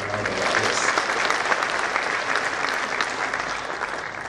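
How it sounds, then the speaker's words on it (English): A dinner audience at a Kenya–USA diaspora sacco event applauds its sponsors, a dense, loud and continuous roar of clapping that holds evenly throughout. "Let us give them a round of applause."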